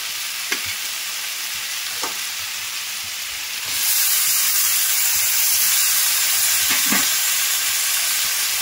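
Fried prawns being stirred into a bottle gourd masala in a pan, with a steady frying sizzle that swells louder midway and a few soft spatula knocks, no voices.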